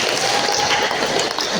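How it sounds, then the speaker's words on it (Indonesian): A dense wash of clapping from a crowd fills the short clip, steady and fairly loud, with voices mixed in. "Tepuk tangan, terima kasih."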